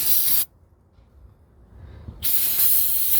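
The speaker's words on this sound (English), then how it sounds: "use a brake cleaner. Just spray up in there." Brake cleaner sprayed up under a 2014 Ford Escape 1.6L during an oil change: two loud, steady aerosol hisses, one short and one longer, separated by a near-silent gap.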